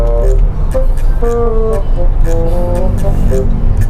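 Road traffic on a busy street: a constant rumble of engines and passing vehicles with several short horn toots, close and loud, while a person talks over it.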